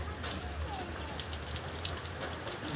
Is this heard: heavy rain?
yes